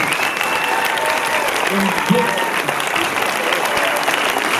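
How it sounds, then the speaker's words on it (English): An audience at a film Q&A with a surfer and filmmaker gives steady, continuous applause that fills the room, with scattered voices and a brief cheer mixed in. "let's give them another round of applause."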